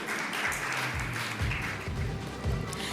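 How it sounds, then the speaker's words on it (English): An audience at a maritime awards ceremony gives steady, moderately quiet applause, a dense wash of clapping from a crowd without pause. "Let's give them a round of applause"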